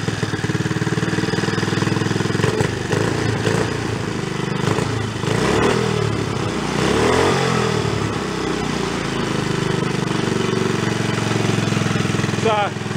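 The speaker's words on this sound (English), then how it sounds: "None of them like to idle down very well though. I think I got an intake leak." A small Rupp mini bike engine with an intake leak runs close by, idling unevenly with a buzzing, wavering tone that surges and dips in speed.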